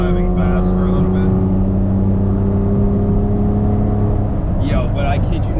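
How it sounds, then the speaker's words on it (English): A tuned BMW X3 M driving fast, its engine holding a steady, loud droning hum with constant road and wind noise from inside the cabin, and a voice briefly speaking near the end. "is just driving fast for a little bit"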